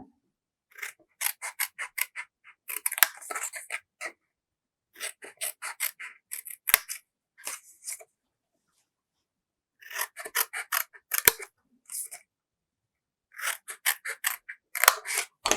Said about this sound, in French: couper vos papiers. Donc j'enlève toujours les angles.